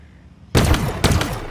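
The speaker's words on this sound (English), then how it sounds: "And here comes a rocket." A rocket blasts in Halo Infinite: an abrupt, loud broadband explosion bursts out of near silence, followed by a second heavy impact less than a second later, both close and booming.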